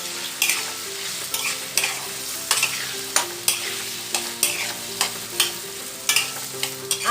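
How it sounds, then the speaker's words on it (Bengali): Potatoes for a Bengali home-style ghugni fried and stirred in a pan, a steady hiss with a spatula scraping in regular strokes about every half second, close and alone. "এবার আলুটাকে আমরা ভাজবো।"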